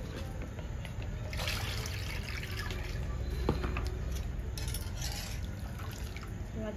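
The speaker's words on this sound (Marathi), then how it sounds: "आता बर्फाचे पाणी टाकू आपण" Ice-cold water is poured over blanched spinach in a home kitchen, making a continuous splashing trickle at close range that holds steady throughout.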